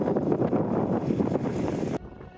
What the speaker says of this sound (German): Allmählich frischte der Wind auf